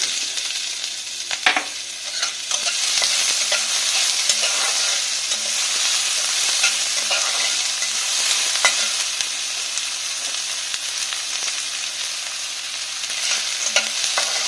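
Chopped onions and chilies frying in melted sugar for ghugni cooked with goat fat, a continuous bright sizzle with intermittent stirring clicks and scrapes, close and loud throughout with no voices.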